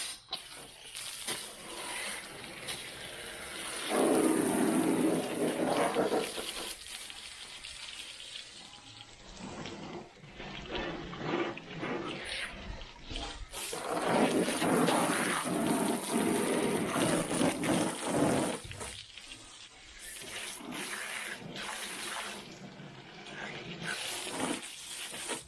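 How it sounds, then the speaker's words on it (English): Water sprayed onto a Slumberjack overland utility bin to simulate rain and road spray, hissing bursts of spray that come and go in long waves, loud and close. "Now just imagine it's raining and there's water spray coming up and whatnot, so I'm just going to simulate that."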